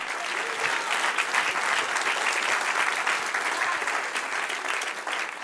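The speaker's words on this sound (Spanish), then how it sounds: "Dale un aplauso al Señor" A church congregation at a Spanish-language service breaks into sustained, dense applause that stays loud and even throughout.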